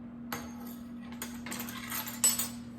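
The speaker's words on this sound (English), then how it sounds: "It's my measuring spoons." Metal measuring spoons clink in a kitchen while cinnamon sugar is measured for baking, a few light, scattered metallic taps and one brighter clink near the end, faint and close over a steady low hum.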